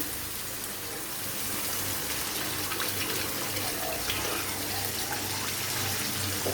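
Beef bone yakhni stock pours from a jug into a pot of fried spices, a steady, close, gushing splash that holds for several seconds without pause.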